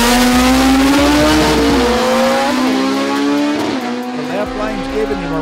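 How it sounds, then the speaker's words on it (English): All-motor drag race cars accelerating hard down the track, a loud, sustained engine roar that holds steady and shifts pitch partway through, with an announcer's voice talking over it. "Now that's a drag race there, folks."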